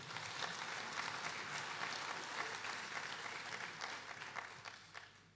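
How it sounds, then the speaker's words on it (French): Dense, sustained applause from a large conference audience at a blockchain summit's inaugural session, a steady wash of many hands clapping that continues evenly and fades slightly at the end. "Je vais vous demander, s'il vous plaît, de les applaudir parce que le travail a été très important."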